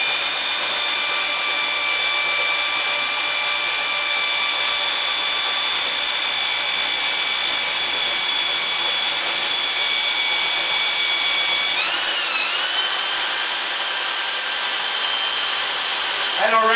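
A Baileigh TN-250 notcher saw, with a massive 6061 aluminum saw block, cuts through metal tubing with a loud steady high-pitched whine and grinding, and its tone shifts briefly near the end.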